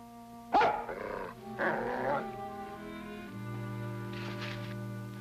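A young collie puppy gives two sharp barks that slide into snarling growls, then a low whimpering grumble over soft background music.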